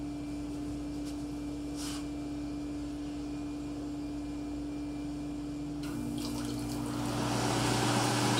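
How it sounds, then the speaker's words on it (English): Ultrasonic humidifier transducers run with small water fountains, a steady watery hiss and hum with an electrical drone that grows louder and brighter toward the end, with no voices. "We will now show you operating transducers."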